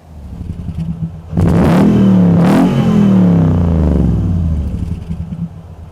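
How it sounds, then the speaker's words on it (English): A 2015 Toyota Tundra TRD Pro V8 revs hard through its TRD true dual exhaust, two loud rising-and-falling blips of deep, close rumble over a steady idle. "True dual exhaust all the way back. This is the TRD exhaust."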